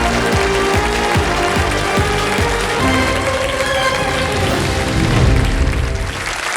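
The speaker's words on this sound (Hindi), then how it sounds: "तालियां बज जाएंगी" Studio audience on the KBC game show breaking into loud, sustained applause, dense crackling claps filling the room steadily throughout.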